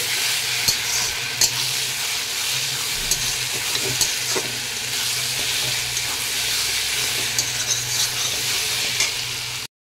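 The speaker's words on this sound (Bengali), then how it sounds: "প্রথমে আমি এখন মশলাটাকে কষিয়ে নিচ্ছি" Spice masala is stir-fried in a pan, with a steady loud sizzle and scraping stirs and occasional sharp utensil knocks running throughout, close up and without talk.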